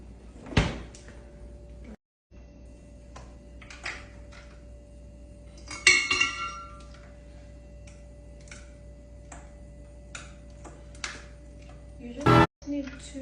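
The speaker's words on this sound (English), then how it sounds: "You just need 2 ice cubes, guys" Two ice cubes clinking into a glass of a drink made with milk, heard as a few sharp, quiet clicks and a brief clattering burst, spread out over a faint, steady background hum.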